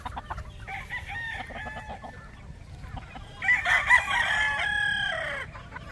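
Chickens cluck and chatter nearby, then a rooster crows loudly, its long call rising over the flock.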